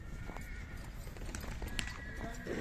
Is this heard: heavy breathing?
no